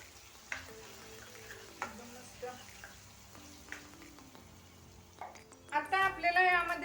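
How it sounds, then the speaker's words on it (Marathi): Potatoes and peas in a curry with oil are stirred in a pan, giving soft scraping and clinking strokes with light sizzle, then a louder burst of bubbling and scraping near the end, with a voice talking at times. "हे पा एकदा छान मिक्स करून घेऊया"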